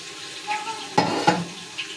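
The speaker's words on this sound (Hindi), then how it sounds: "इसको अच्छे से भून लेंगे" Ginger garlic paste sizzling in a pan of onions, a steady frying hiss broken by a couple of brief stirring scrapes against the metal.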